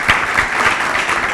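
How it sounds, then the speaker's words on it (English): An audience bursts into dense, steady applause for a presenter at a drone conference. The clapping is loud and close, holding at a constant level throughout. "let's give a huge round of applause to Ms. Singh"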